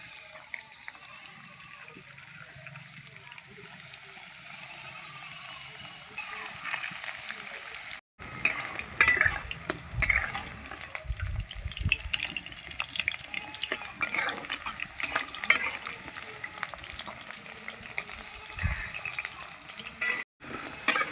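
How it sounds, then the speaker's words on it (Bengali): Chicken pieces fry in oil in a home kitchadai karahi, a low crackling sizzle under running-water and kitchen clatter, with spoon scrapes and clunks growing busier after a short break, moderately close. "বন্ধুরা এগুলো আমার ভাজা হয়ে গেছে এ কটা ভাজলেই আমার সব চিকেন ভাজা হয়ে যাবে"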